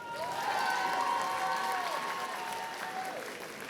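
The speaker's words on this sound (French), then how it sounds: "Est-ce qu'on peut aussi applaudir l'ensemble du staff de la Chibi-Rouen" Cosplay contest audience at the Chibi Rouen Hanami 2024 convention applauding the event staff, a steady, dense round of clapping from a sizable crowd that holds strong, then eases slightly toward the end, with cheering and whistles mixed in.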